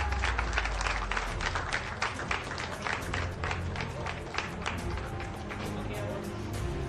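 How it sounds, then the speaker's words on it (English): Crowd applause and cheering at the final round of a women's professional golf championship, heard at a moderate distance as crisp clapping mixed with a low roar, with voices murmuring underneath throughout. "Ladies and gentlemen, put your hands together. Let's hear a big roar and a big cheer for Miyu"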